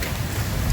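Steady, dense rain roars continuously, a broad wash of noise with no voices or other sounds over it.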